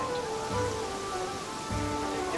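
Steady rain falls in the Pathfinder: Kingmaker video game, a constant even hiss of drops with faint low thumps and tonal game ambience underneath, no voices.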